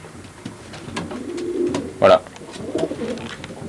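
Racing pigeons coo softly in a loft while someone talks over them, with a louder burst of cooing near the middle and low throaty calls throughout.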